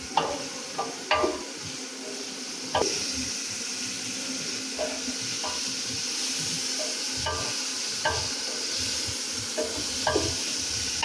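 Chicken pieces frying for restaurant-style chicken fried rice, giving a continuous close sizzle with occasional clacks of a spatula stirring in the pan. No talking is heard.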